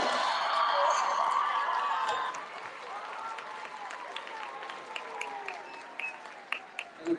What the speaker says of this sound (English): Please give these kids a round of applause